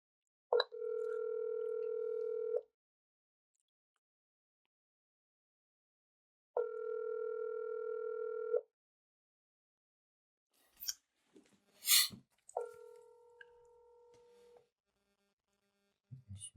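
An outgoing phone call rings unanswered: two long electronic ringback tones with a pause between them, then a short clatter of handling noise and a third, lower tone, all fairly faint and with no one picking up.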